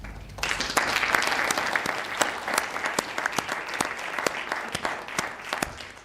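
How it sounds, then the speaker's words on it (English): A conference audience claps for a panel, a dense burst of applause starting abruptly and holding steady for several seconds in a hall, close and fairly loud, with no voices on top. "And to give a big applause to our panelists."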